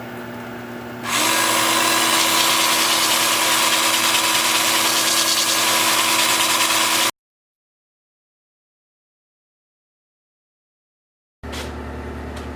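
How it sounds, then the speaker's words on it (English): A wood lathe spins a fir bowl while it is sanded, a steady whirring motor hum with a faint sanding hiss, cut off by a few seconds of silence before the lathe runs again. "So I'll be sanding starting with 80 grit up through"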